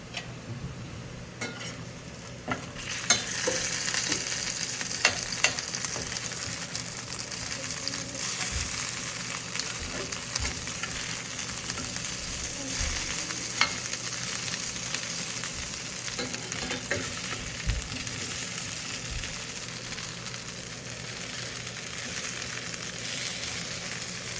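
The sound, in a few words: potatoes slow roasting and frying in a pan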